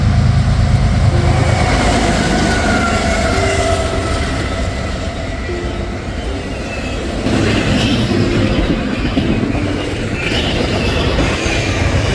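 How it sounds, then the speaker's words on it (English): An eastbound intermodal freight train headed for New Jersey, led by a GMD diesel locomotive, rolls past loud and close, a steady rumble of cars with wheel squeals and faint clickety-clack throughout. "The first train I would see is some eastbound intermodal on its way to New Jersey, being led by a DC G-Mo."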